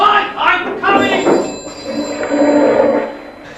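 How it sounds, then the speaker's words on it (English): A telephone bell rings in a 1980s home, heard mixed under the voices of people talking nearby. "Telephone!"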